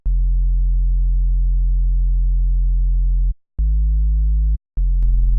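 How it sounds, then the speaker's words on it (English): A synthesized sub-bass tone built from first, third and fifth harmonics, heard as a loud, steady low hum that holds alone, cuts out briefly, returns, then stops again before a final sustained stretch. "I have the first, third, and fifth harmonic."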